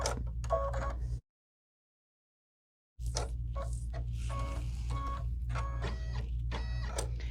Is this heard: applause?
no